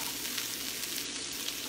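Carrot strips frying in a pan for Korean kimbap, a steady close sizzle with light crackle running evenly throughout, no talk over it.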